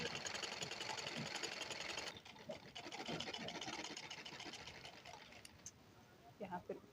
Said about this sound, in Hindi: और यहाँ पर एक सूट की सिलाई लगाएंगे।